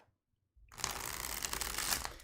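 Tarot cards are shuffled close up in one continuous riffling rush lasting about two seconds, after a brief silence.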